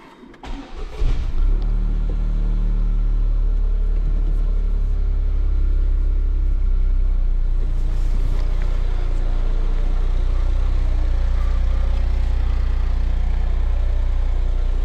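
A Toyota GR Yaris engine turns over and settles into a deep, steady idle, a loud low rumble that holds throughout with slight variations in revs.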